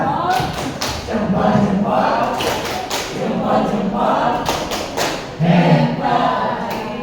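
Indonesian group 'tepuk hebat' clap chant at a school gathering: many hands clap together in a steady rhythm of sharp bursts, mixed with voices chanting along.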